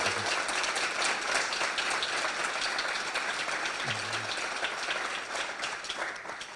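Applause at an architecture conference, steady and continuous, with a brief murmur of voices partway through before it tapers slightly.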